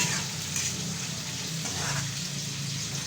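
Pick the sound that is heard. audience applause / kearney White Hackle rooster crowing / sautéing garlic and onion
sautéing garlic and onion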